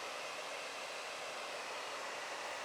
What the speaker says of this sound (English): Time to reveal my secret weapon, a hairdryer.